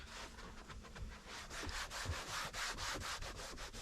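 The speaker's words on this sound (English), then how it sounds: "Wipe down the bottom of the column." Rhythmic back-and-forth rubbing of a cloth wiping down the underside of a car's steering column during interior detailing, a steady series of close scrubbing strokes with no talk.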